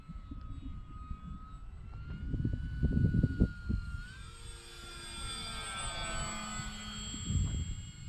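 An E-flite Maule M-7 bush-style RC plane flies overhead with a whining electric motor and propeller buzz that rises and shifts in pitch as it passes, over outdoor wind rumble.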